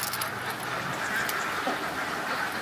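A crowd of egg-laying ducks on a duck farm, steady dense quacking from many birds at moderate distance, continuous and fairly quiet throughout.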